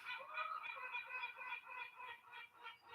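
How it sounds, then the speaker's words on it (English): Birds squabble noisily in the background, a faint, continuous tangle of overlapping calls and chatter with no one speaking over it. "The naughty birds are obviously having some kind of row."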